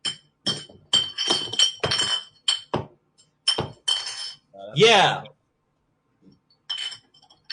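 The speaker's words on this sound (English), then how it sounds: "I was actually just smashing bottles around on the floor." Glass beer bottles clink and knock against a floor in several sharp, bright impacts scattered through the stretch, mixed with people talking over and between them.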